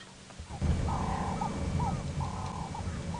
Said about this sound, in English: Turtle doves are now going.